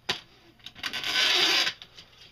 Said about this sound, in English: I'm adding the score tip to my trimmer